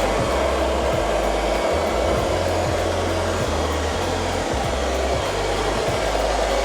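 An iLife V5 robotic vacuum cleaner runs with a steady, loud motor whir throughout, with regular low bumps every second or so as it moves across the floor picking up dust.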